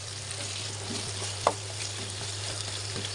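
Chicken frying with cubed onion, capsicum and green chillies for a Chinese vegetable dish, giving a steady loud sizzle throughout with a single sharp clink from a utensil midway and no talk.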